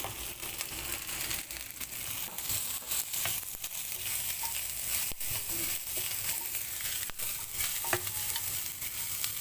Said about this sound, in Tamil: தேங்காய் நல்லா வதக்கணும்